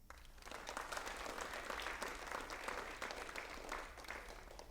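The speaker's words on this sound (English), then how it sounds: "give yourselves a round of applause" A crowd at a karate academy black belt graduation claps steadily for several seconds, a dense, even patter heard at low volume without any talking.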